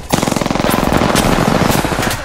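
Rapid automatic gunfire in Apex Legends rattles out as a loud, fast burst of evenly spaced shots that runs for about two seconds, close and alone with no talk.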